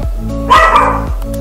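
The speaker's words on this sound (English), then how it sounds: "He's busy. He's being the guard dog." A dog acting as a guard dog lets out two or three sharp, loud barks close by, spaced apart within a second and a half.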